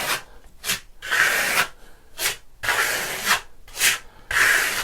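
A trowel burnishes a Venetian plaster top coat in fan-shaped strokes, making repeated close, breathy rasping sweeps roughly every half second to second, with brief pauses between passes and no talking.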